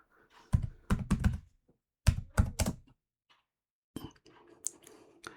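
Fingers typing a command on a computer keyboard, with quick clusters of crisp clicks in three short bursts separated by pauses, close and fairly quiet.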